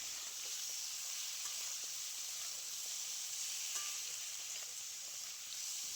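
Eggplant and pointed gourd fry in a pan with a steady, hissing sizzle that stays even and continuous throughout, soft and close with no talking.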